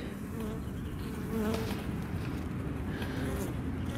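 Honey bees buzz densely and continuously at close range at a hive after winter, a thick droning hum with individual insects whirring past.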